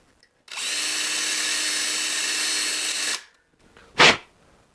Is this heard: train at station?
no